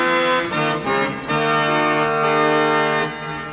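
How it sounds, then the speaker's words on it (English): Powerful reed trumpet stops of a church pipe organ at Chiesa di San Bartolomeo, tromba and fagotto, sounding a loud sustained chord with a few brief breaks and note changes, bright and brassy, ending on a slight decay. "The tromba and fagotto sound like this."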